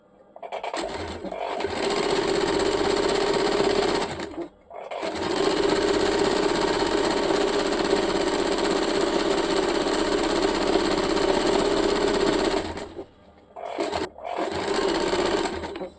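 A sewing machine stitches a salwar leg opening in long, loud mechanical runs, with a few seconds of whirring between brief pauses and two short bursts at the end.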